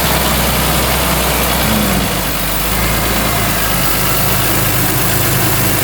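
A BMW E46 M3 engine runs steadily at idle, a loud, constant close-up drone with no talking.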